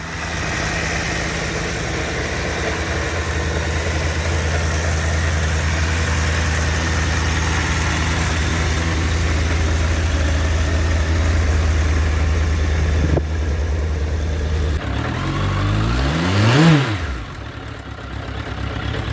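A Suzuki GSF 1200 Bandit motorcycle engine idles with a steady low throb, then revs up sharply near the end before dropping back, close and loud.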